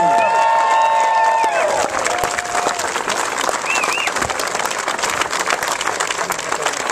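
A crowd at a political campaign launch applauds steadily, dense clapping that carries through the whole clip, with a voice briefly audible at the start.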